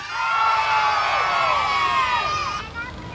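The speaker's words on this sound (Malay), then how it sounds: "Siapa rasa Zam patut menang, jerit hey." A studio audience at a Malaysian comedy music show shouts a loud, sustained "hey" in unison to vote for a contestant, a dense crowd roar that holds for about three seconds before trailing off.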